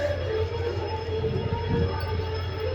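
A passenger train slows toward a halt with a steady low rumble and a faint, drawn-out wheel squeal, heard from inside at close range with no talking.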